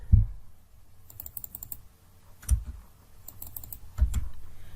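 Computer keyboard typing while filling in a tender data sheet on an e-GP procurement system: short, quiet bursts of keystrokes in three clusters with pauses between, close and faint, no voices.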